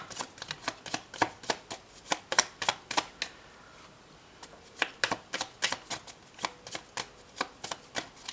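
Tarot cards shuffled by hand in repeated quick riffling bursts, a brief pause midway, then steady papery flicks resume, close and fairly quiet with no talking.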